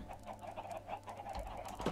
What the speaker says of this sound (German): jetzt sind ja die ganzen Hühner draußen